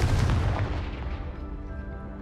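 Confringo fire spell in the game Hogwarts Legacy, a single heavy booming explosion with a deep rumbling tail that fades out over a couple of seconds.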